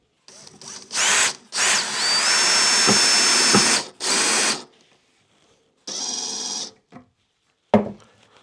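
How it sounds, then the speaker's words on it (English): Power drill driving screws into wood while a cajon drum is being built, several close, loud bursts of whirring of varying length separated by short pauses, with a final short burst at the end. "So I'm just going to use my drill."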